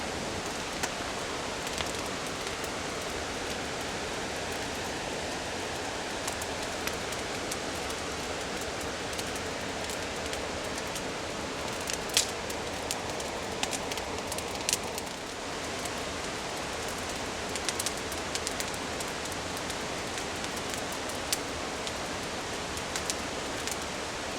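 Steady broadband rush of a waterfall close to a campsite at night, continuous and even throughout with no talk, only a few faint crackles over the constant roar.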